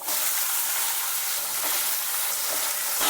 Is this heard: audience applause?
no